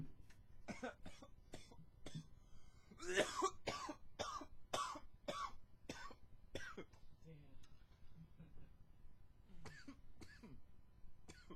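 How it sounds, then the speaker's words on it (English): Coughs and throat clearing from a person on a music podcast, a few short bursts spaced through the clip, close and moderately loud, with talking around them. "if I start coughing, I cough for a sec"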